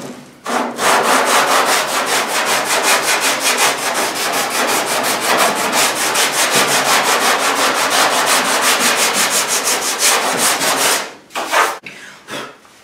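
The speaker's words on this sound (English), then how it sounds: "I just have some 120 grit on my sanding block here." A sanding block with 120 grit sandpaper rubbed back and forth across a Pontiac Firebird body panel, fast, steady rasping strokes close by, stopping near the end with a few scuffs.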